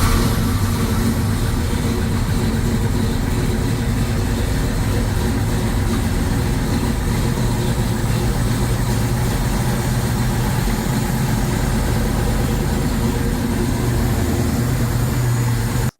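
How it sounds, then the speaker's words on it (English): Loud, steady rumble of a 1970 Dodge Challenger R/T SE with a 426 Hemi V8 idling, a deep continuous engine drone held close and unbroken throughout. "Number 2, 1970 Dodge Challenger RT SE 426 Hemi."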